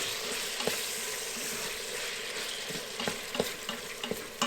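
Meat browns in an Instant Pot with a low, steady sizzle broken by several light clinks and scrapes of stirring, fairly quiet and close, with no speech.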